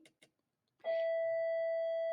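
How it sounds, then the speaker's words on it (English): A bright electronic bell tone sounds once in a quiet room and sustains steadily after a couple of faint taps, loud and close, alone. "There's our bell again."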